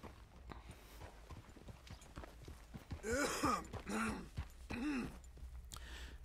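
Horse hooves clip-clop in a steady walking rhythm in the video game Red Dead Redemption 2, with a horse snorting and breathing heavily partway through, fairly close and moderately loud.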